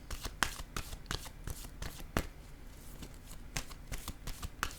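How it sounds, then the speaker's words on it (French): Tarot cards being shuffled by hand at close range, a continuous run of papery riffles and slaps with quick irregular bursts, no voices over it. "Allons-y maintenant avec une autre carte pour ici."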